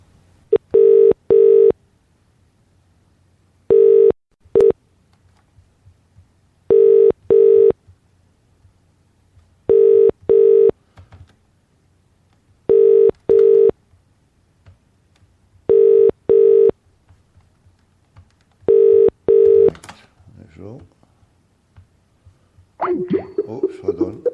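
Phone line tones, evenly spaced pairs of loud ringing bursts repeating about every three seconds over quiet gaps, ending in a short burst of faint talk.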